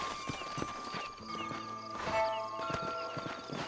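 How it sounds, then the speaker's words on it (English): Horse hooves clip-clop in Red Dead Redemption, a steady run of hoofbeats with an occasional snort, set under a bed of tonal game music. "Monta tu caballo."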